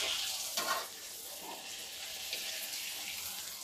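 Puchka shells for pani puri frying in oil, a soft, fairly quiet bubbling sizzle with a few faint splashy bursts near the start, steady and close with no talking.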